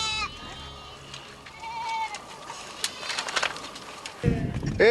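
Goats kept for milk by Borana herders in Ethiopia bleat in several short, wavering calls, fairly near, over a low outdoor background with other faint animal and human sounds toward the end.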